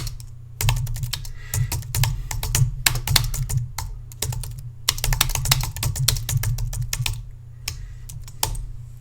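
Someone types a comment on a computer keyboard, rapid close clicking in uneven bursts separated by short pauses, with no voices.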